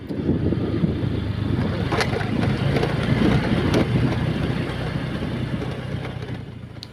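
A motorcycle ridden along a damaged, rough rural road toward a rice field, its engine a steady close rumble with bumps and rattles, no talking.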